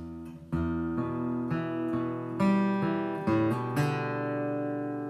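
An acoustic guitar picks a short measure of single notes over ringing open strings from the intro of a song, a steady rhythm, close and clear with no talking.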